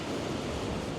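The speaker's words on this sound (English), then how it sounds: "it's good to sort of have the crashing waves" Rough sea waves crashing against rocks on a beach at sunrise, a dense continuous roar of surf and spray, loud and close with wind buffeting the microphone.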